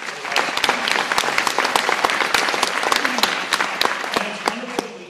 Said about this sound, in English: I want to give another round of applause for that.